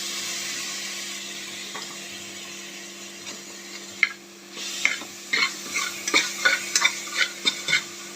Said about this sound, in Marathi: टोमॅटो पण छान भाजून घ्यायचं.